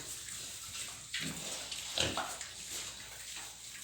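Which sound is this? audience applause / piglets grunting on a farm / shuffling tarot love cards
piglets grunting on a farm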